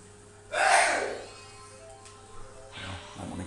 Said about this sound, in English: That's my dad sneezing in the background.